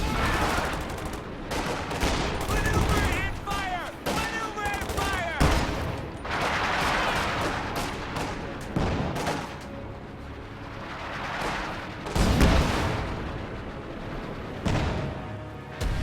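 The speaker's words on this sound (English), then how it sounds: "Indirect fire being exchanged on both ends of the battlefield." Indirect artillery fire, including pack howitzers and an AT gun, trades across a video game battlefield as a continuous loud barrage of overlapping booms and rattling gunfire, with a voice talking underneath.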